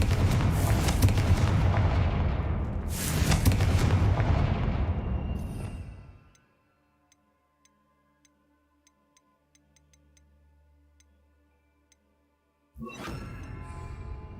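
Confringo fire spell explosions in the Hogwarts Legacy video game: loud, dense blasts crowd the first six seconds, then a near-silent stretch with faint ticks, before another heavy burst erupts at the end.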